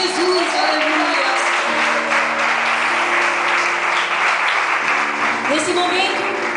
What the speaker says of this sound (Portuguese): Palmas bem alegre para Jesus